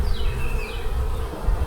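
Honeybees buzz steadily and loudly at an open hive, with a close, continuous drone and a passing higher whine from a bee flying near.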